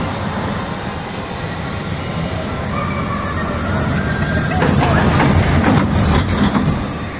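Steady rumble and clatter of a small amusement park ride train rolling along, with continuous rattling and occasional squeaky metallic accents, no talking.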